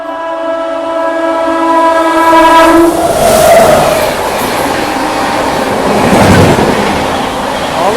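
A train passes at Etawah Junction on an overtake, its horn sounding loud and close before a continuous rolling roar of wagons rushing by builds and lingers.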